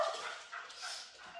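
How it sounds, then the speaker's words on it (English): A dog with anxiety indoors whines and yelps in a high, thin, continuous cry, faint and somewhat distant over the short stretch, with no talk. "that's my dog going a little bit."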